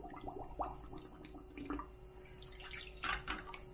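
Well water from a bucket splashes and trickles over soil in small plant cups set with comfrey root cuttings, coming in several close, quiet, uneven bursts.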